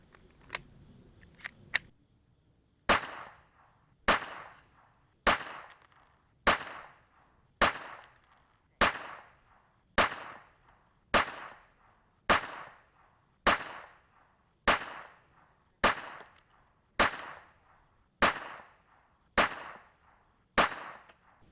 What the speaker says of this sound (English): Going to send 16 rounds through the chrono.